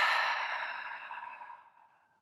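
One long open-mouthed exhale during ujjayi breathing, a close breathy sigh that starts loud and fades away over about two seconds, with no other sound.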